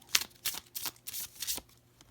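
A deck of cards shuffled in several quick rustling bursts, close and distinct, about five soft riffling passes in two seconds with no voice.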